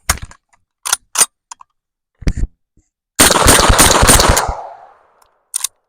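An M1 Carbine firing the rest of its magazine: several sharp, loud single shots spaced apart, then a rapid dense burst of shots that rings out and decays, followed by one last report.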